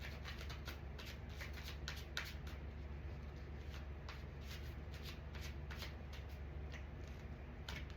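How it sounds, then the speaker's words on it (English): Tarot cards are shuffled by hand in a steady run of close, crisp riffling and slapping bursts that repeat without pause, with no one talking. "So I'm gonna stick to the way I shuffle"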